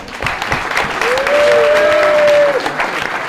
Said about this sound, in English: So big round of applause to you guys.